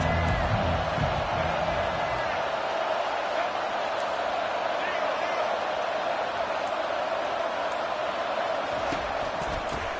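At a college football stadium, a large crowd keeps up a steady, dense roar of cheering from a distance, with no break across the stretch.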